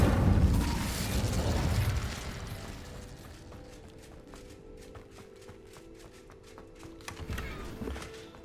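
An Incendio fire spell in Hogwarts Legacy erupts as a loud, whooshing burst of flame, then fades into a quieter stretch of small crackles and ticking, with a minor flare near the end.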